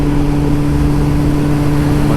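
A 2024 Kawasaki Ninja ZX10R motorcycle cruises on a highway, its engine holding a loud, steady drone with constant wind roar and no speech.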